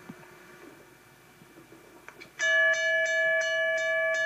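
A mechanical railroad crossing bell of the Teardrop number 2 type starts up after a quiet lead-in and rings loud and close with a rapid, regular ringing and a bright, sustained metallic tone.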